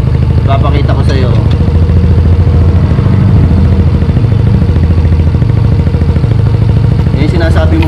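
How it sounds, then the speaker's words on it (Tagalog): A motorcycle exhaust runs steadily with a close, loud, low engine rumble and a metallic rattle riding over it, the clatter audible throughout at a constant idle. "Simula pa lang tambutso natin, may kalansing na yan."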